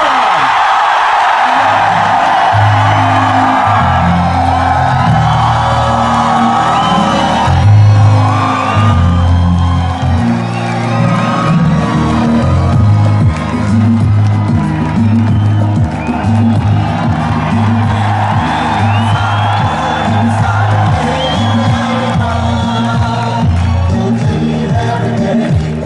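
A large crowd at a Lahore PTI party convention roars, cheers and whoops continuously for Imran Khan, dense and loud throughout with shouts rising above a steady wall of noise and a low rhythmic pulse underneath.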